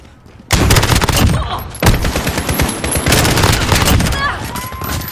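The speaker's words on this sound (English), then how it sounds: "The last submachine gun you unlock is the MP7. Super fast fire rate." MP7 submachine gun in Call of Duty: Modern Warfare rattles off loud, very fast automatic bursts, one sustained stream, a brief break, then another long burst with clinking casings and game effects, no talking.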